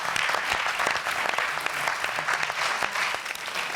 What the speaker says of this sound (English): An applause to Tom, please.